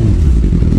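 A TVS Radeon motorcycle engine runs in a short, steady burst of low, throbbing rumble, loud and close with no talk over it.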